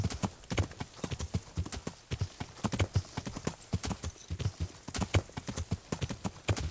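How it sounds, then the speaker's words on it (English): Horse hooves clip-clop at a steady walking rhythm in the medieval game Kingdom Come: Deliverance, fairly close and continuous, with a brief whinny and faint voice chatter in the background. "you've left your horse behind, mate"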